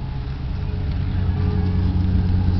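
A 1989 Nissan Pathfinder SE V6 runs with its muffler cut off and the exhaust ending in flex pipe just ahead of the rear tire, giving a loud, steady, raspy idle drone close by for the whole stretch.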